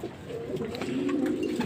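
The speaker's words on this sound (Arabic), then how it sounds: "هنرمي شويه اكل دلوقتي في الحمام وهنسيبه تمام" Pigeons coo softly in a loft, with low, rolling calls that rise a little in level over a short stretch, heard alone without speech.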